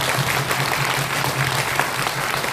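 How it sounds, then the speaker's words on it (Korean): Sustained applause from an audience at a Korean election-fraud expo, steady and dense throughout with a low hum underneath and no voices on top. "우리가 박수로 격려 한번 부탁드립니다"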